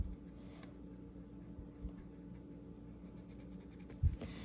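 A pencil marks a line on an E6B flight computer: soft, faint scratching strokes in a quiet room, ending with a small sharp tap near the end.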